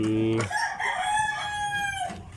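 A white Kelso gamecock rooster crows once, loud and close, in a single drawn-out call of about two seconds with no talk over it.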